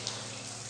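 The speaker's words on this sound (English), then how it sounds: "Water coming through the holes and the pipes." Water seeps and trickles through holes and pipes inside a disused railway tunnel, making a steady, faint, hissing wash with no pause.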